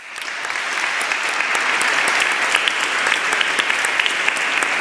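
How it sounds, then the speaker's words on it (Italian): Dense, steady applause fills a cathedral during the welcome ceremony for a new archbishop, rising in the first second and then holding as a loud, sustained wash of many hands clapping without speech. "E con questo applauso"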